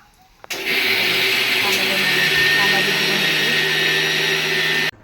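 A mixer grinder grinding soaked rice and urad dal runs as a loud, steady whir from start to finish, then cuts off abruptly near the end.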